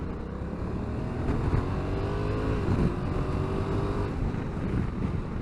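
A 2022 Honda CRF1100L ADV Sport DCT motorcycle pulls away from a junction under gentle throttle, its engine a steady, close drone over continuous wind rush at the microphone.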